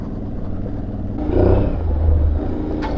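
An Aprilia Tuareg 660 motorcycle ridden off-road through deep desert sand, its engine a steady low rumble that swells as the throttle opens midway, with wind noise throughout.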